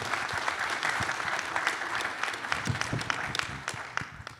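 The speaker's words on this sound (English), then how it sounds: "I think another round of applause for this." An audience at a coronary intervention medical conference applauds in the session hall, a crackling spread of claps with distinct individual hand strikes standing out, fairly even in level.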